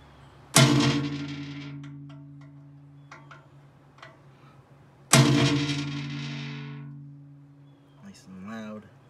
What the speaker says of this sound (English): start off by center punching these.